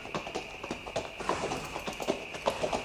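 Horses trot along a road in a dubbed French comedy film, hooves clip-clopping in a steady, fairly quick rhythm at moderate distance, with faint tonal background sounds and no speech.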